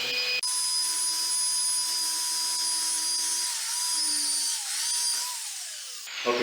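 Close, loud whine of a power drill boring a screw hole into the floor for a toilet flange extender over tile, holding one steady high pitch for about six seconds before winding down.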